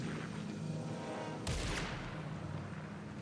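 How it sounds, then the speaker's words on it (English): A single sharp gunshot cracks in the video game Alan Wake 2, cutting through a low droning ambient background and fading quickly. "heard gunshots"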